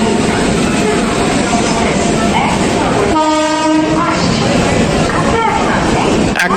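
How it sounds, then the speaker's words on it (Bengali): The Sealdah–Bamanhat Uttarbanga Express 13147 with LHB coaches pulls into Sealdah station, its steady loud rumble joined midway by a long horn blast, while someone talks over the noise. "ট্রেন ঢুকছে শিয়ালদা বামনহাট উত্তরবঙ্গ এক্সপ্রেস"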